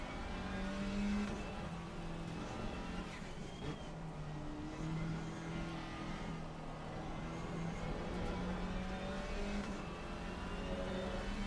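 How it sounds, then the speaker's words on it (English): GT3 race car in Assetto Corsa Competizione at Barcelona, engine droning loud and steady with rising and falling pitch as it closes in and passes, other cars' engines layered close around it. "The faster car is approaching. P5 GT3 coming through."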